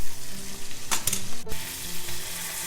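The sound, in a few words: kangaroo burger patties sizzling in a pan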